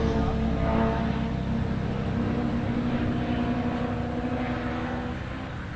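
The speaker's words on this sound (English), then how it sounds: "Great to hear the K20 singing down the back straight." A K20-powered Honda Civic EG race car screams through its revs at a hill climb, a loud sustained high-revving engine note that fades slightly as it heads away, with a commentator's voice faintly beneath.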